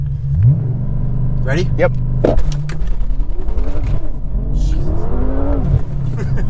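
A 700hp BMW M6 launches at full throttle, its engine revving hard and loud and close by, with rising harmonic sweeps of acceleration as people talk briefly over it.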